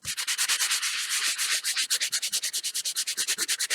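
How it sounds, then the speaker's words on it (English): A sanding block rubs over embossed cardstock in quick, even back-and-forth strokes, close and scratchy, speeding into a steady rhythmic scrubbing. "you just kind of start rubbing over it"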